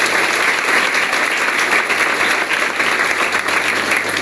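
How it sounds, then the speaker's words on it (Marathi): An audience applauds loudly and steadily, a dense wash of claps filling the room without pause, cheering for an academy at a girl empowerment program. "आपण एकदा जोरात टाळ्या तुमच्या अकॅडमीसाठी वाजवा"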